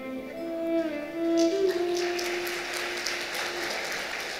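Scattered audience clapping at a devotional gathering in Vrindavan, light and uneven hand claps over lingering sustained musical tones, growing denser toward the end.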